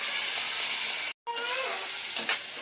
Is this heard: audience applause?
no